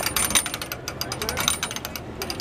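A pressed-penny souvenir machine at Walt Disney World being cranked by hand, giving a steady run of ratcheting, grinding mechanical clicks close by with light background chatter from a crowd.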